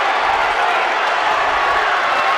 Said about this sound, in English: The crowd looking for a tech.